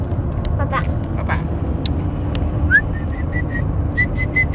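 Person whistling in a family whistling contest, a few short rising and steady whistled notes in quick succession near the end, clear and close over road-traffic rumble, with brief talking and clatter earlier.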